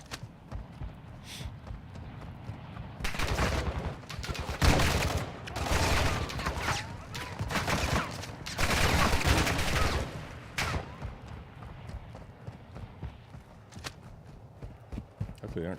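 Enemy gunfire crackles in Call of Duty DMZ (Modern Warfare 2) as repeated bursts and volleys, some distant, some closer, spread over several seconds amid game ambience before fading to quieter background.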